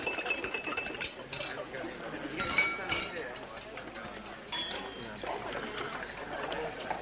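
Glass clinks as a cocktail with a cherry and an olive is stirred: light, repeated tinkling and clinking under ongoing speech and soft room murmur.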